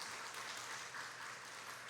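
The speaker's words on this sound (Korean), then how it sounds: "우리 수고하신 그레이스 찬양대에 한번 박수로" A congregation at a Friday church prayer meeting applauds to welcome the Grace choir: a steady, even wash of clapping from a crowd, fairly soft and distant, with no voices over it.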